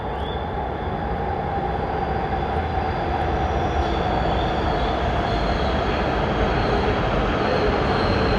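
A quiet bullet train runs at high speed through snow, giving a steady, close rumble and rushing hiss that holds without pause.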